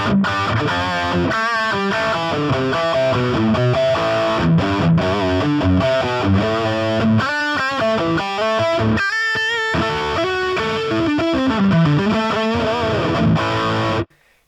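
Electric guitar played through a Line 6 Pod Go with dual delay, left and right mix at 30% and no reverb: distorted, steady rhythmic melodic lines with delay repeats, loud and continuous, ending abruptly.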